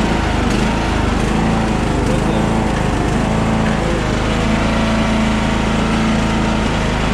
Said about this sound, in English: So she runs good. You know, just a normal lawnmower.